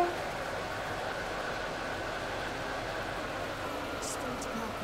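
A three-coach commuter train runs steadily on the approach to a station, a continuous loud broadband rumble of wheels and carriage interior noise with a brief brake hiss near the end and an onboard announcement voice.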